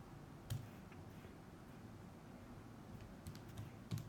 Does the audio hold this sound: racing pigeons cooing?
no